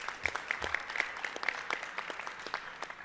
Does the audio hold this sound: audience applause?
yes